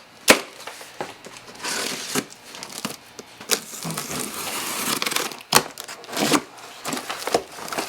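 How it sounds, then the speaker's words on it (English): Cardboard box for a Boonedox kayak landing gear kit for a Hobie Pro Angler 14 being torn open, a run of crinkling, tearing and crushing bursts with sharp snaps, close and fairly loud, no talking. "Start by opening your box."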